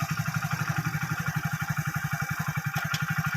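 Motorcycle engine in first gear held at a steady rev, a fast even throb pulsing close to the microphone, with one brief sharper blip near the end.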